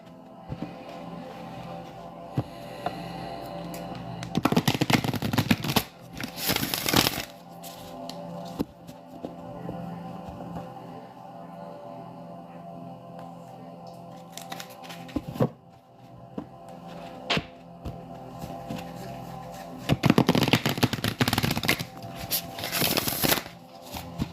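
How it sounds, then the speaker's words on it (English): Oracle cards shuffled by hand in repeated bursts of riffling and sliding, with close, crisp flurries that come and go between quieter stretches. "So I'm going to take this time while I'm shuffling these cards"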